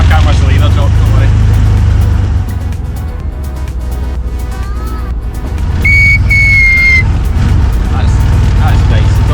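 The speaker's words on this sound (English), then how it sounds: "You tried to whistle?" Someone whistles a short rising note, then a brief warbling tune, over rumbling traffic and a passing vehicle, with voices around it.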